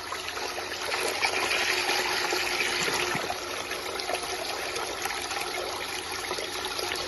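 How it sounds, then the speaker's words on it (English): SHYSKY 24V DC 120W speed-adjustable micro water pump running continuously with a full water supply, a steady rushing, splashing flow of water that stays constant and moderately loud throughout. "the pump runs continuously when it is in full water scenario. This is the normal water pumping performance"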